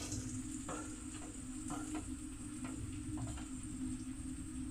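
Turmeric powder stirred into a sizzling tadka in a home kitchen: a steady hiss of hot oil runs throughout, broken by several soft spoon scrapes and knocks against the pan, with no talking.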